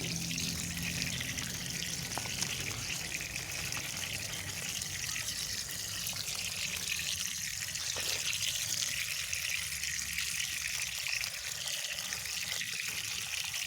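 Running water from a tap splashes steadily over blimbing wuluh flowers being washed, a continuous hissing trickle and gush heard alone at moderate loudness.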